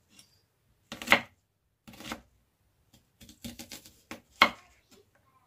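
Several bursts of knife chopping onions on a board, close and crisp, with quiet pauses between the groups of cuts.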